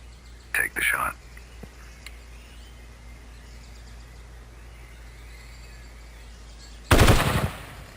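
Gunfire during target practice in an animated Project Zomboid story: a short burst of sharp shots near the start, then a quiet stretch, then another loud volley of rapid shots at the end.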